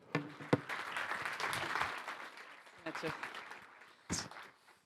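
Brief scattered clapping from a small audience welcoming a speaker at a conference, uneven and moderately loud, with voices mixed in.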